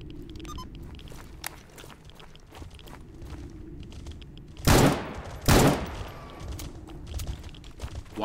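A gun fires in the STALKER GAMMA video game: two sharp, loud bursts land close together midway, with quieter shuffling movement before and after.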